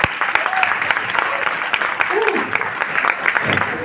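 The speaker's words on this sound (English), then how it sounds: "Can we all have a clap for HP and Jacob?" A group of people clap together for two friends at a rhythm and music event, a loud, dense burst of applause close by, with voices mixing in underneath throughout.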